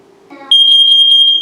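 A First Alert smoke and carbon monoxide alarm starts up after a brief burst of lower tones, then holds a loud, piercing, steady high-pitched electronic tone close by for about a second.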